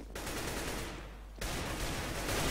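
Gunfire in Counter-Strike: Global Offensive, dense rapid bursts of automatic shots crackling continuously, with a short dip before a louder renewed volley; no talking.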